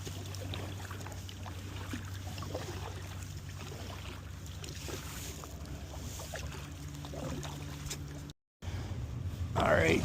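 A canoe or kayak paddled upriver against the tide on the Fraser River, with steady water and boat noise under constant wind rumble; a sharp dropout near the end, then a louder splash or gust.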